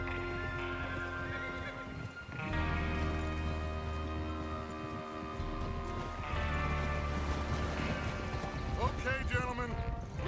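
Horses gallop in Red Dead Redemption 2 as a gang rides out toward a train robbery, steady clip-clop hoofbeats running through the whole stretch beneath a layered game music score and ambient bed.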